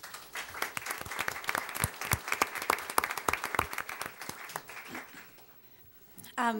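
Audience clapping to welcome a newly introduced school principal at a school board meeting, steady applause for about five seconds that thins and fades, then a voice begins speaking.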